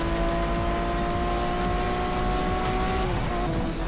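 A Lamborghini V12 engine in the Asphalt 8 racing game drives on the ground, a loud, steady high-pitched drone that holds an even pitch without revving and drops in pitch near the end as it shifts gear.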